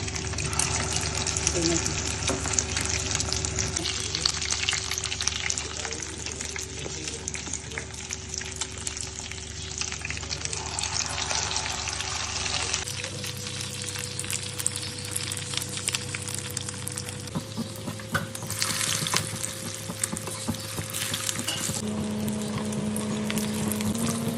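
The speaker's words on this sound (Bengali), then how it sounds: "এই যে একদম মুচমুচে করে ভেজে নিলাম" Frozen beef tikka kebabs frying crisp in hot oil, a steady loud sizzle running throughout with shifts in texture as the pieces are moved.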